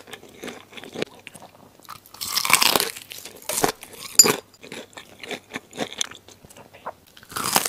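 Crispy spicy miso garlic fried chicken being bitten and chewed up close, loud sharp crunches in irregular bursts with quieter chewing between and no talking.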